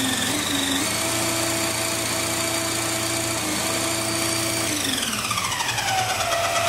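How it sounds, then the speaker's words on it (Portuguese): An electric drill spins a resonance motor acting as a generator, giving a loud, steady motor whine with sustained tones. Near the end the drill speeds up and the pitch glides sharply higher. "Agora eu vou acelerar mais aqui a furadeira para ver o que acontece."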